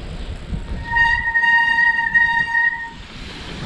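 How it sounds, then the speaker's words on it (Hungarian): Train brakes in the seaside town of Stavros, Greece, give off a sharp, sustained metallic squeal with ringing overtones. It rises from low rumbling, holds for about two seconds, then fades. "Micsoda hangja van a féknek, igaz?"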